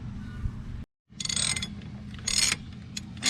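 Close mechanical ratcheting and metallic clanks from tightening wheel wedges on Dayton wheels of a log truck, short bursts separated by a brief silent gap.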